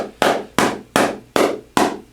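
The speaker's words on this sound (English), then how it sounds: "you can beat on an OEM with a hammer" A hammer beats on OEM iPad digitizer glass, five sharp, loud, evenly spaced strikes, each with a short ringing decay, no speech.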